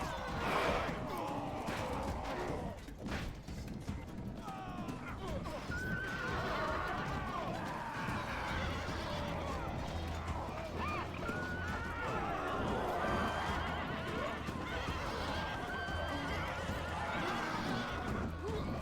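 Horses whinny and neigh repeatedly amid a Rome Total War Remastered battle, with galloping hooves and the clash of fighting beneath, while a voice talks over the din.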